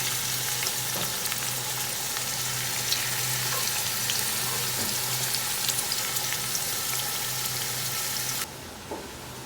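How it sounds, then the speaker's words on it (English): Cumin seeds and onions fry in a pan while being stirred constantly, giving a steady close sizzle with faint scraping that runs evenly, then drops away abruptly near the end. "Add the cumin seeds and onions and cook, stirring constantly, for 5 to 8 minutes"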